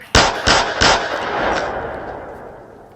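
Kitchen gun firing in the Bonelab VR game: three loud, sharp blasts in quick succession, then a fourth softer shot, each leaving a long echoing decay that fades out.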